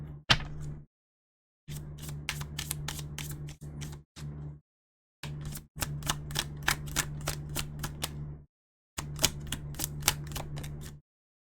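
Oracle cards being handled and shuffled, with bursts of rapid crisp flicks and taps up close, separated by brief silent pauses, over a low steady hum.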